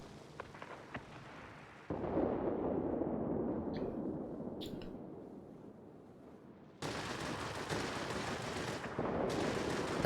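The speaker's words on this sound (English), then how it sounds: "Have a few pot shots at the ME-262, which is actually within range, and land a few shots." Aircraft guns fire in World of Warplanes, with the Blohm und Voss BV P.203 shooting at an ME-262. Long, dense bursts of rapid gunfire sit over steady engine drone, broken by brief pauses and a few faint blips.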